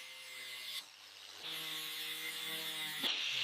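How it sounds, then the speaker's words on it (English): An angle grinder whines steadily, close and loud, as it smooths corroded chassis metal on a 1961 Jaguar E-Type Series 1, with a brief drop in pitch and then a harsher, rising grind. "An angle grinder smooths corroded metal of the chassis of the 1961 Jaguar E-Type series."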